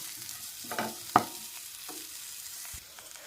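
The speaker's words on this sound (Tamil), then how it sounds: "ஒரு ரெண்டு நிமிஷம் கைவிடாமல் வதக்கி எடுத்துங்க" Onions and coconut sauté in a pan for mutton gravy, a low steady sizzle broken by a few soft scrapes and one sharp tap of the spatula, no speech.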